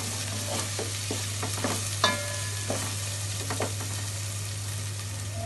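Rice frying with spices in a little oil for khichuri, a constant soft sizzle broken by a few stirring scrapes and a clink, with no one talking.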